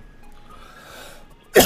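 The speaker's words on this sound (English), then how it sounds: "I apologize for coughing." A single sharp cough bursts out at the very end, close and loud, after a stretch of quiet room tone.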